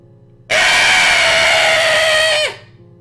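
A streamer lets out one loud, sustained scream lasting about two seconds, starting abruptly and dropping off sharply at the end, with quiet before and after.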